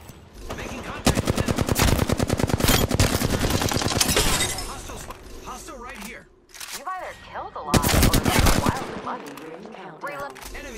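Rapid automatic gunfire from a battle royale video game, loud repeated bursts of shots with brief pauses between volleys, mixed with game sound effects and a synthetic voice announcing actions.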